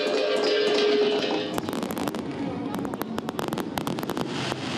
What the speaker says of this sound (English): There were fireworks and music as thousands came to celebrate the vote for freedom 20 years ago